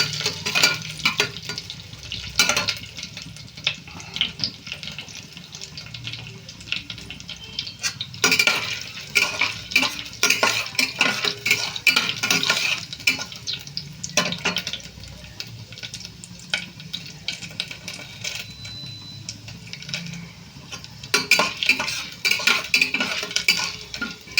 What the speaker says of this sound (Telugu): ముందుగా శనగపప్పు అయితే ఫ్రై చేస్తున్నాను